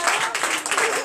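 A church congregation claps and cheers in acclamation during a deliverance night service, a dense, steady wash of clapping and voices lasting about a second with no gaps.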